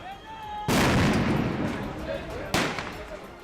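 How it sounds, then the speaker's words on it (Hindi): Stun grenades go off: a sudden loud blast bursts out, followed by a noisy rumbling wash, then a second sharp bang hits near the end. "ऊपर से हथगोलों के विस्फोट की कान फाड़ आवाज सुनकर तो पूरा इलाका ऐसा दहला"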